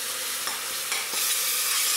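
Honey and spices sizzle in a hot pan while a spoon stirs and scrapes, a steady close frying hiss with a few soft scraping strokes.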